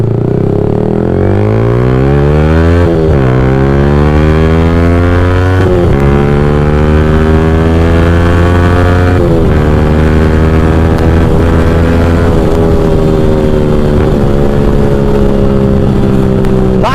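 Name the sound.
motorcycle being ridden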